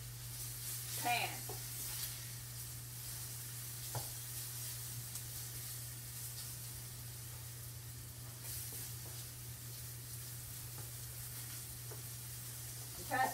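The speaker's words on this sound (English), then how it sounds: "all I'm going to do is kind of brown this liver a little bit in this" Liver browning in a salted pan gives a steady, soft sizzle that continues throughout, with a few faint clinks from stirring and no speech over it.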